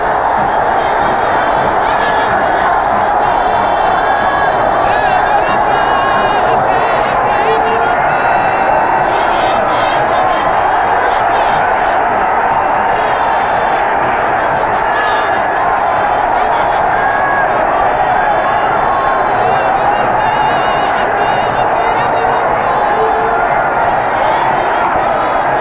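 A large stadium crowd roars and cheers steadily as a team enters the Stade du 28 Septembre, a dense, continuous wash of voices sustained at full volume throughout with no break.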